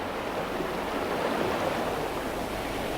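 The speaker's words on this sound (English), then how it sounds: "Perforated metal trays set into troughs of constantly flowing spring water imitate the natural gravel of the streams" Spring water flows constantly through fish hatchery troughs fitted with perforated metal trays, a steady, soft, even rush with no breaks, heard alone at low level.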